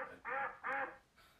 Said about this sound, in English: He's giving me the quack.